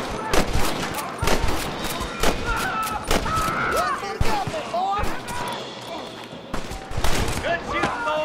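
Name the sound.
gunfire in the video game Red Dead Redemption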